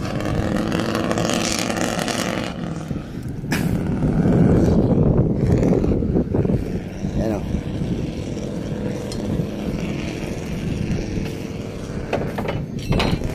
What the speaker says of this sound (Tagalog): Tanong lang po tayo, anong makina po yan? Isuzu 10PC1.